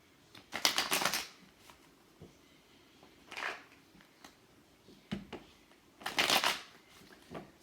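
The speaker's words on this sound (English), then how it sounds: "that was a terrible shuffle." Barbara Moore's Gilded Royal tarot deck is shuffled by hand in several short, crisp riffling bursts separated by pauses and small card taps, close up and quiet.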